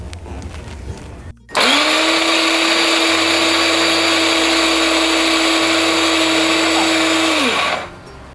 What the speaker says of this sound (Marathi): रवा आता आपण आधी बारीक करून घेऊया मिक्सरला